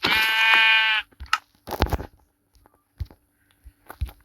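Sheep in the video game Minecraft let out a loud, close, wavering bleat, followed by scattered short clicks and game sound effects, with no talking.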